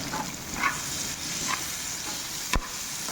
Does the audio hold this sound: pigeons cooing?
no